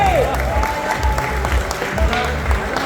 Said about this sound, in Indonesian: Boleh teman-teman berikan tepuk tangannya dong